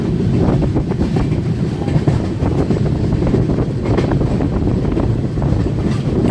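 The Gowthami Express (12738) rumbles steadily across the Godavari river rail bridge near Rajahmundry, a loud, continuous roar of wheels and carriages with faint rhythmic clatter and wind buffeting throughout.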